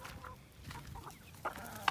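Chickens and a calm rooster clucking in a backyard flock, soft scattered clucks with a couple of sharper louder calls near the end, close by and without talk.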